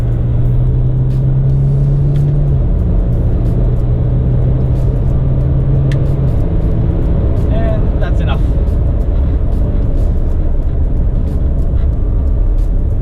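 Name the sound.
Jaguar F-Pace 30d SUV driving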